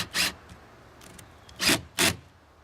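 A drill on a torque setting driving screws into a seat pedestal base during installation: three short gritty whirring bursts, close and fairly loud, separated by quiet pauses.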